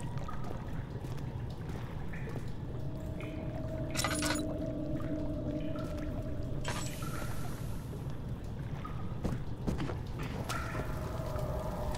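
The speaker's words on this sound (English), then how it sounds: "Redirect sewer water, okay." Sewer water being redirected in the horror game Amnesia: The Dark Descent, a steady pouring, trickling rush that runs throughout under low ambient rumble, with occasional clanks and bursts of louder splashing.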